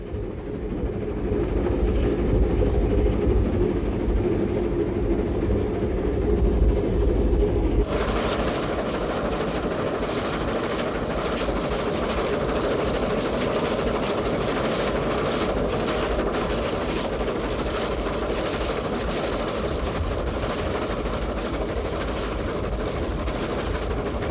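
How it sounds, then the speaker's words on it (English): A steam locomotive running on the Patagonia Express line in Argentina, its tender's rear bogie squealing and grinding over a steady rumbling roll of wheels and rail noise, loud and continuous with no talk. "There was some concern at the squealing and grinding noises to be heard emanating from the rear bogie of the locomotive's tender"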